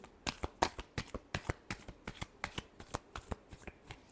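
Tarot cards are shuffled by hand in a steady run of crisp riffling snaps, about three or four per second, close and fairly quiet with no talk.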